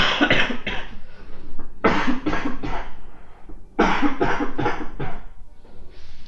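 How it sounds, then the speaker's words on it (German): Harsh, bad coughing fits from a person during a German Binding of Isaac gameplay session, several loud hacking bursts in two clusters, close to the microphone with no talk. "Schlimmer Husten."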